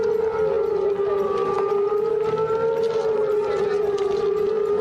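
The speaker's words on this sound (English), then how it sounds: "You hear the sirens right away." Wailing air-raid warning sirens at a military base in Afghanistan signal incoming mortar rounds, a loud, steady sustained tone holding without break throughout.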